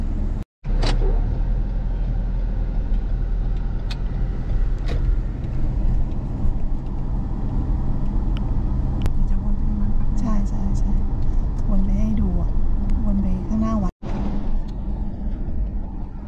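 Car driving along a road in Nonthaburi, Thailand, with a steady low engine and road rumble that runs throughout under speech.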